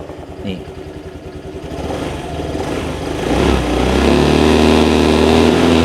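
Honda Click160 scooter engine running after a cold start, a steady mid-pitched putter close by that builds and settles into a smooth idle, with someone talking over it.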